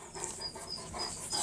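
A cane corso on a walk pants rapidly and rhythmically close by, breathy huffs repeating steadily over faint outdoor background noise.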